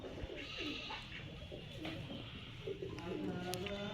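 Pigeons kept as pets coo repeatedly at close range, soft throaty calls repeating over a faint outdoor background with occasional brief bird chirps.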